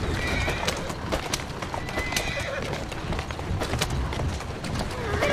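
Hooves of several horses clatter at a fast gallop in Assassin's Creed Syndicate, steady and close, with occasional whinnies and a constant rumbling background.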